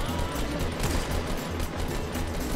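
Sustained, dense automatic gunfire in Fortnite as a wall is shot down, a loud continuous rattle of rapid shots with no letup.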